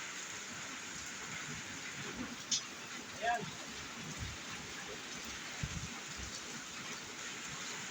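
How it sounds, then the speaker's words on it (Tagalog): Heavy rain pours down steadily in a wide, even hiss near a pigeon loft, with a few brief knocks and a short spoken word over the downpour. "Napakalakas po ng ulan"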